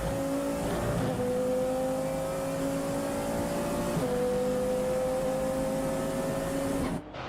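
Onboard engine drone of a race car during an FIA CEZ endurance race at Slovakia Ring, a steady loud tone holding through the clip with a slight pitch shift around the midpoint before cutting off near the end.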